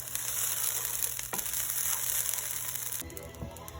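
Shrimp fried cauliflower rice sizzles steadily in a hot pan, a continuous close crackle broken by a couple of scraping stirs, then a brief shift to a quieter, clattering scrape near the end.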